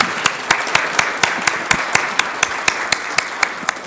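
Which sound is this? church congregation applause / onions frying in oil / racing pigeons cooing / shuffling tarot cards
church congregation applause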